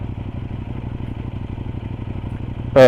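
A KOVE 800X motorcycle engine lugging at about 1500 rpm, a low, steady, slightly uneven chugging throb with faint mechanical clatter, ending in a sudden louder burst.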